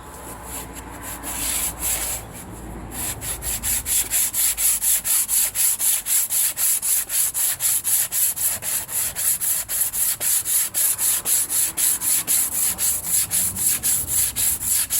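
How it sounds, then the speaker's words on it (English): Hand sanding on a wind turbine blade that lost its match in a storm, a block scrubbing back and forth in a steady, fast rhythm of close, loud rasping strokes that continues throughout with no talk. "I'm going to finish the hand sanding on this blade so that it nicely matches the others"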